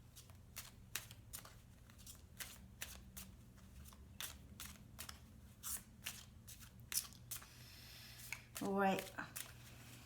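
Tarot cards being shuffled by hand in a quiet room, a series of crisp riffling bursts repeating at a steady pace, with a short spoken word partway through and a brief louder rustle near the end.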